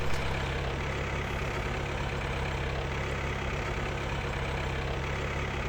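A tractor engine in the farming video game Farming Simulator 2013 drones steadily with a dense, unchanging rumble, loud and continuous throughout with no speech.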